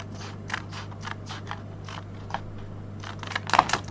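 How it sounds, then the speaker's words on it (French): Scissors cut through paper for a tutorial on a Valentine's Day ingot-shaped box, making a steady run of a dozen or so crisp, close snips in quick rhythm, ending in a few louder cuts, over a low steady hum. "on va couper avec une paire de ciseaux"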